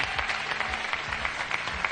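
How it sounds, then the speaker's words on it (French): Studio audience applauding on a French TV game show, a steady dense patter of clapping filling the space with small swells, no talk over it. "Applaudissements pour Stéphanie et pour Gurvan"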